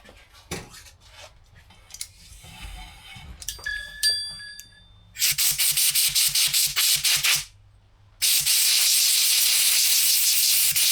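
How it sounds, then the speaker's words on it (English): Compressed air blasts in two long, loud hissing bursts, with a short pause between them, used for cleaning parts on a 1984 Corolla AE86 coupe, after quieter clinks and rustling of handling. "I think we need some compressed air for this."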